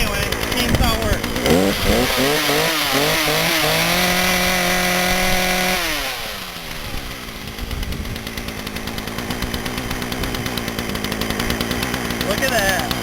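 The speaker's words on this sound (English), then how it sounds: "But anyway, chainsaw works." A McCulloch chainsaw, just repaired after a stuck clutch, runs loudly up close, revving high and holding, then dropping to a rough idle before climbing again, a constant buzzing roar from start to finish.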